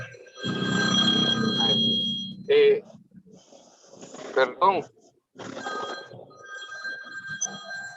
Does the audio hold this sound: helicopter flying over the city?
no